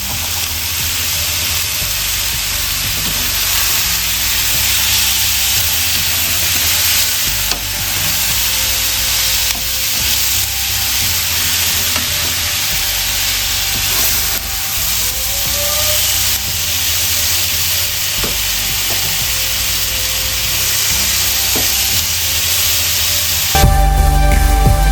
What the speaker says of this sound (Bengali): এইবারে দিয়ে দেব ম্যারিনেট করা চিকেন। দিয়ে একটু কষিয়ে নেব।